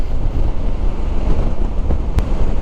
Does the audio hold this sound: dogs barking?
no